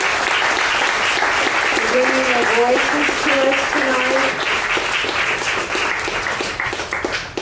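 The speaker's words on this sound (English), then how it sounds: "I'm going to recommend that everyone give them a great round of applause" Sustained audience applause fills the room for three readers at the 2009 Beyond Margins celebration, steady and fairly loud throughout, with a voice speaking over it and clapping slowly thinning toward the end.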